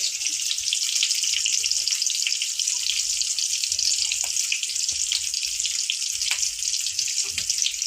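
Onion, green chilli and tomato fry in a pan with a loud, constant hissing sizzle and occasional soft stirring knocks, close up and without speech.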